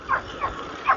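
A dog barks three times in quick, yappy bursts, somewhat distant and thin over steady wind and road noise during an e-trike ride.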